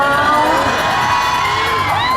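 A crowd of fans screams and cheers at the launch event for the Summer Wonderfest 2024 campaign. The shrieks are loud, high and continuous, and they fill the whole moment.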